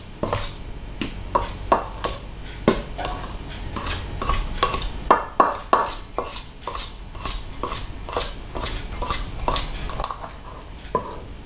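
Dry naan dough ingredients with a sachet of easy-bake yeast are stirred in a bowl, giving a steady run of close, sharp clinks and scrapes of utensil against bowl, repeating in a quick irregular rhythm with no talking.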